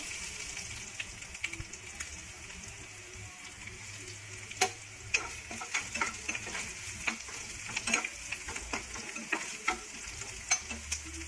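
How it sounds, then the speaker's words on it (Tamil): Bitter gourd sautés in sesame oil in a kadai under a constant soft sizzle, while a spatula scrapes and clicks against the metal in quick, irregular strokes that grow busier midway; close and unaccompanied by speech. "கட் பண்ணி வச்சுருக்கேன் பாவக்காயை இதை சேர்த்து கொஞ்சமாக தோலுக்கு சேர்த்து வதக்கி எடுத்துக்கலாம்"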